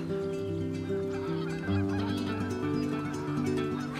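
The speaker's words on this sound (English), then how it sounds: "Can you see the birds up in the sky?" Geese flying overhead honk continuously in a steady, overlapping chorus of calls, moderately loud and heard without any talk.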